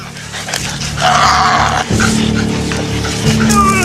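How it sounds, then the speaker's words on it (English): Loud, chaotic scuffle of hunting dogs growling and snarling as they maul a live pig that squeals, close and continuous, with hunters' shouting voices mixed in. "hunters releasing aggressively trained dogs to track, chase, and maul live pigs"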